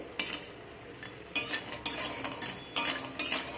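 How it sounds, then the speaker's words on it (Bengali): Lentil dumplings (bori) frying in a pan, with a faint steady sizzle broken by several short clinks and scrapes of a spatula stirring them, close and with no voices. "বড়িগুলোকে আমি একটু লাল লাল করে প্রথমে ভেজে নেব"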